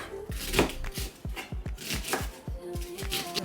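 A knife chops onions on a cutting board during home meal prep, with a quick run of close, sharp taps in an uneven rhythm, about a dozen strikes.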